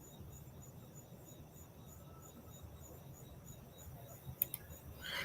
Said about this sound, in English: So can y'all hear crickets?